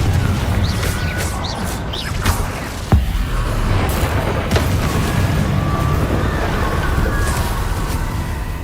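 Confringo fire spells in Hogwarts Legacy burst repeatedly during combat, loud booming blasts and crackling impacts layered over a dense, continuous wash of game effects and music.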